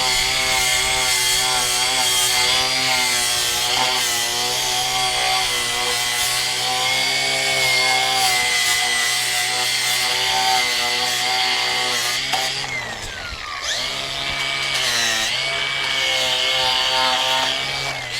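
A power sander works over a wooden joint on a floor joist, a loud, steady close grind that runs almost continuously, dipping briefly near the end before resuming.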